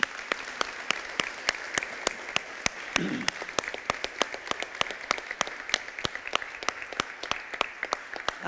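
A church congregation claps in a steady, evenly spaced rhythm, sharp regular beats continuing throughout at moderate loudness, with a brief murmur of voices partway through.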